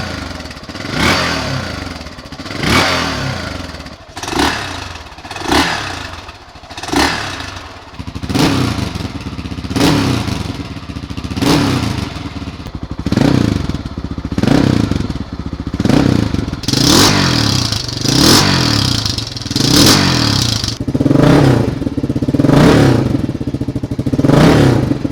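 Honda XR600R dirt bike engines rumble and rev in repeated bursts through Supertrapp, FMF, White Brothers and stock mufflers, close and loud, with throaty exhaust pops and brief clattering between throttle blips; no talking.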